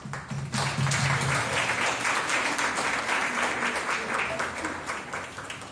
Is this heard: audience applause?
yes